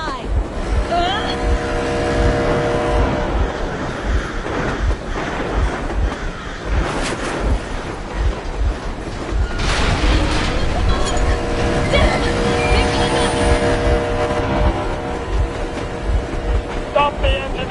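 A vehicle engine in Metro Exodus runs steadily and loudly throughout, a continuous rumbling drone under game dialogue and background effects.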